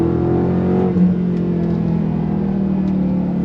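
A 2023 Chrysler 300C luxury performance sedan is held on throttle, its engine giving a loud, steady, close drone with a brief surge near the start and a constant low rumble throughout.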